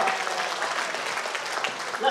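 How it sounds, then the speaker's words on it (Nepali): Church congregation clapping for the Lord during a worship service, a brief steady patter of hands at moderate level with voices faintly underneath. "घुम्नुको ताली दिउँ प्रभुलाई"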